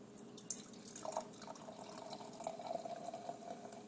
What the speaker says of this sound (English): So here's the pour.